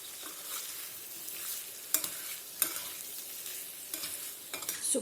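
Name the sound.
white poppy seed paste cooking with potatoes in a pan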